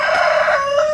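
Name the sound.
chickens squawking, hen protecting her chicks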